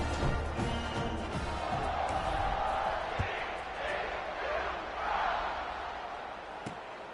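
A football stadium crowd at a TCU versus UCLA game roars and murmurs steadily in the distance after a touchdown drive, fairly faint, while a commentator talks over it.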